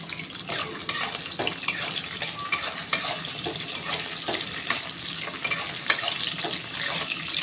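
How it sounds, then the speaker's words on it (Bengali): Soaked chickpeas and peanuts stirred and fried in a pan over low to medium flame, a soft sizzle broken by frequent rattling scrapes and clicks of the spoon against the pan. "ছোলা বাদামটাকে আমি একটু নেড়ে চেড়ে লো ফ্লেমে দিয়ে ভেজে নিচ্ছি"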